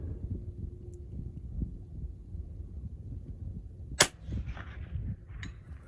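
Vudoo V-22 rifle firing .22 long rifle at a long-range target outdoors: a single sharp, fairly quiet crack stands out against low background rumble, followed by a faint trailing echo.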